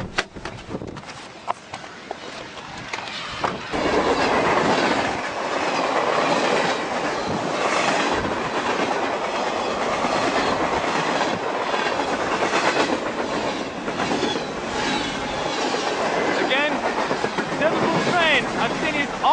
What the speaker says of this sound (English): I've seen these all my life, this kind of train.